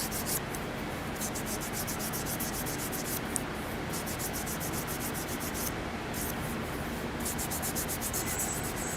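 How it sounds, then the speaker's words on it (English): Fingernails rubbed with acetone to clear scratch marks, a steady close dry rubbing and brushing texture that continues without pause throughout. "this is just some acetone to help rub out those scratch marks"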